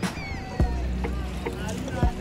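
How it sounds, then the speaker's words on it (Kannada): Boat noise on the river at the Triveni Sangam confluence in Prayagraj during the Maha Kumbh Mela, with low rumbling and a few dull knocks spaced through the clip, voices murmuring faintly in the background. "ಗಂಗಾ ಯಮುನಾ ಸರಸ್ವತಿ ನದಿಯಲ್ಲಿ ದೋಣಿ ವಿಹಾರ ಅಂತೂ ತುಂಬಾ ಚೆನ್ನಾಗಿದೆ."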